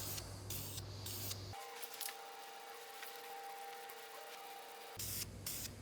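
Primer hissing from an aerosol spray can onto an engine part of a V12 BMW 850CSi, one steady spray burst of several seconds between short handling noises.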